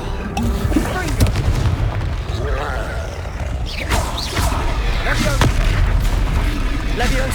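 Repeated booming spell blasts from the Confringo fire spell in the video game Hogwarts Legacy, dense explosive bursts layered over continuous battle noise and game sounds throughout, loud and close.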